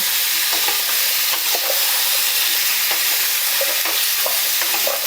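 Raw banana, sweet potato and other vegetables frying in ghee with spices for a Rath Yatra offering: a loud, steady sizzle fills the whole stretch, with soft scraping from stirring underneath and no voices.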